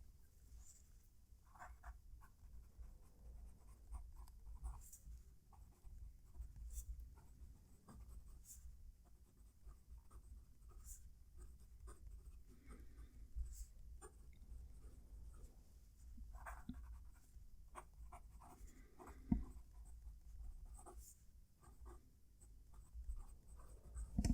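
Close-miked Wing Sung 3008 fountain pen scratching and tapping across paper, a soft steady rasp broken by brief clicks and strokes, with no voices.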